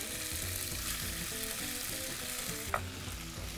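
Cooked beef, garlic chives and bean sprouts stir-fried with flat chow fun rice noodles and sauce in a hot pan, giving a steady loud sizzle with scraping and tossing sounds and one sharp clink near the end.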